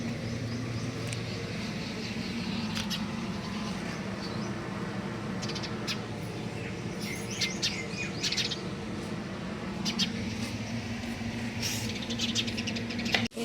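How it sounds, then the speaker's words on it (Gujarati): Sparrows chirp from a perch overhead, with short, bright tweets scattered across a steady low background hum, some calls clustered close together and others spaced apart. "ઉપર ચકલીઓ બેહી ને જોઈ રહી"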